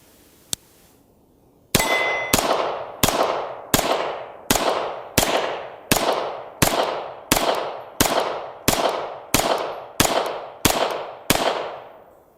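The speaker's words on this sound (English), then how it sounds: "It's a smooth shooting gun" A Swiss-made ITM AT84 pistol, a domestically built CZ75 copy, fires a single shot, then about fourteen more in a steady string at roughly two per second. Each report is loud and sharp, with a ringing decay. No one speaks.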